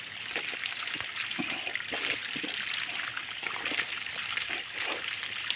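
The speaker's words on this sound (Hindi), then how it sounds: "ये देखिए ऊपर से पानी आ रहा है।" Spring water pouring steadily from an old hillside stream outlet, a continuous close splashing and trickling rush with no pauses and no talking.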